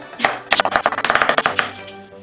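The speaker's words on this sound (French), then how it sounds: "coupe en deux et les tranches en bâtonnets" A knife cutting potatoes into fries on a cutting board: about a dozen quick, sharp chops in a fast rhythm, close and distinct, then silence.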